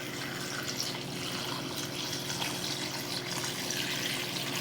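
Water poured into a cooking pot holding hog maw, a steady, continuous splashing flow that stays even and fairly close throughout, with no talking over it.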